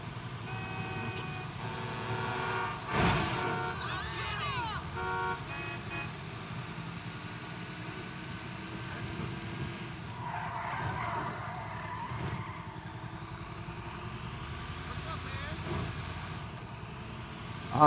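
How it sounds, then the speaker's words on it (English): A dump truck drives and skids in the GTA V video game, with engine rumble, tyre screeches and a horn toot mixed with in-game noise, steady and moderately loud throughout, with speech over it. "Man, this dump truck is just going ham."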